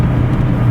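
Steady low rumble of a car's interior while driving, a continuous engine and road drone with no voices.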